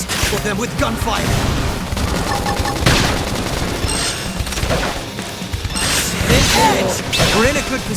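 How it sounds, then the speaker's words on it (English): Rapid bursts of gunfire and mechanical clatter from the video game Xenoblade Chronicles X on Switch, dense and loud over several seconds, mixed with impacts and crash effects. "just kill them with gunfire"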